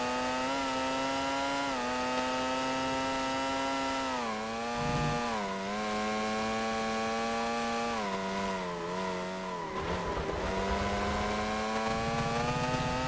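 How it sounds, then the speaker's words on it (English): Formula 1 car engine in the PS2 racing game Formula One 2001, a continuous high buzzing whine that drops and rises in pitch with gear changes, steady and loud with no voices. "it sounds like a motorcycle more than a Formula 1 car"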